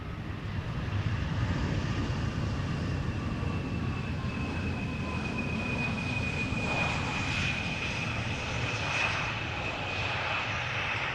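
An Embraer aircraft at Amsterdam Schiphol Airport gives a sustained jet engine roar with a steady whine riding over it. It is loud and constant throughout.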